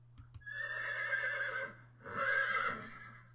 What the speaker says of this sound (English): as soon as I press down, I should hear a horse whinny